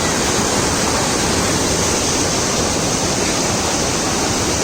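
Heavy water pours over a dam after rain, a loud, steady, broadband roar that fills the space without pause or voices.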